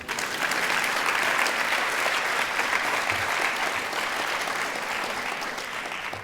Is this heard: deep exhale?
no